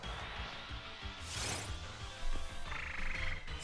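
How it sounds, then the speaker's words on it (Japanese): A frog-type Pokémon cry from Pokémon Sword and Shield, a synthesized croaking call with a bright burst midway, heard over game music with no talking. "そうだよな、明らかカエルだったわ"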